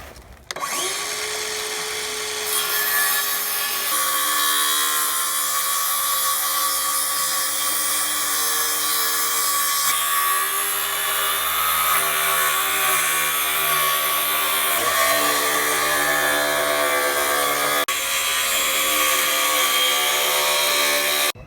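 A power saw runs steadily through a wooden dining tabletop while cutting a beveled edge, a loud, continuous high whine with shifting pitch as the blade bites, holding for about twenty seconds with no talk.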